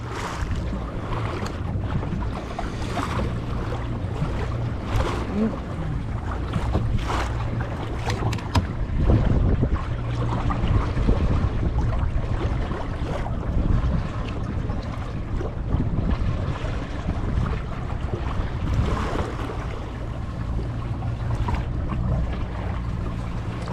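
Ascend FS10 kayak out on rough ocean water past a breakwater. Steady rushing water and heavy wind buffeting the microphone go on throughout, with sloshing and splashing that swell now and then and no talking.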